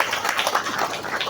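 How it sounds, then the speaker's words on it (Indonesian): An audience at a school farewell ceremony claps for the parents of the ninth-grade class, a dense, steady patter of hands from many people, fairly close and continuous over the brief moment. "Tepuk tangan untuk wali murid semuanya."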